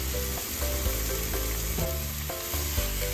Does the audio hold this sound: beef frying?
yes